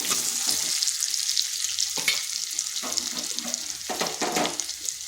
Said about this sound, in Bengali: আলুটা হালকা ভাজা ভাজা হয়ে গেছে